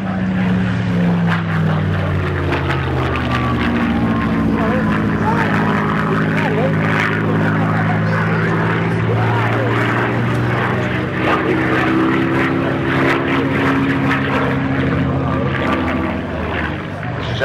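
A Supermarine Spitfire propeller aircraft sweeps fast past a crowd in a low display pass at a private farm strip in North Wales, its steady loud engine drone rising and falling in pitch throughout, with voices in the background.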